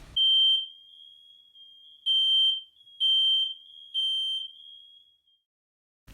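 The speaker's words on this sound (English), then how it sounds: "Are you tired of your fire alarm detector going off unnecessarily?" A Digby smoke detector shrieks in four sharp high-pitched beeps, loud and piercing, with a fainter steady tone lingering between them in an otherwise silent room.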